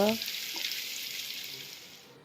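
Potatoes fry in hot oil until reddened, a continuous close sizzle that slowly tapers off, with a brief voice right at the start.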